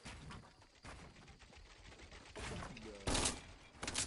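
Gunfire from a Fortnite Battle Royale match crackles in bursts of rapid shots, with a louder volley near the end, mixed with game sounds and excited voices talking over it.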